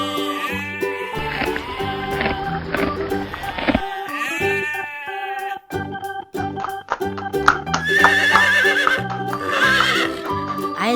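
Toy farm horse neighs loudly with repeated whinnies over a busy, bright backdrop, accompanied by clip-clopping hooves throughout; no one talks.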